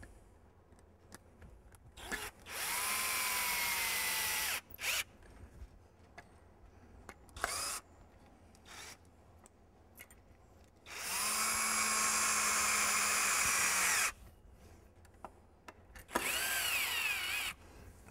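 A power drill driving screws to reattach a board on a hoop pen whirs in bursts: two long steady runs and a few short pulses, separated by quieter clicks and handling noises.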